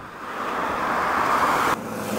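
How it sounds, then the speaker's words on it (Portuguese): Cars passing on a road near a shopping centre, a close, loud broadband roar of traffic that swells and then drops sharply near the end. "Se liga aí, os carros."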